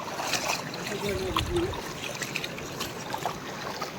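Clear stream water flowing between large rocks at Rangpani, Sreepur, Jaintapur in Sylhet, a soft continuous trickling and burbling with small splashes, with faint voices in the background.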